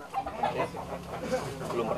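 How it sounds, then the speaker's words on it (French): Fighting roosters held in bags and woven wicker baskets at a Balinese gathering cluck and call near and far, mixed into a noisy crowd with voices talking throughout. "C'est les coqs là qu'on entend là."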